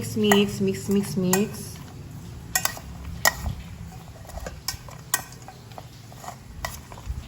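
Dinakdakan being mixed in a bowl, with a utensil clinking and scraping against the dish in irregular strokes, sharp clicks over a light sizzling background, no talking.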